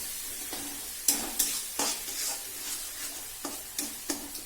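Paneer mixture sizzling in a pan, with a soft continuous fry under a series of sharp stirring scrapes spaced through the clip, close-up and with no talking.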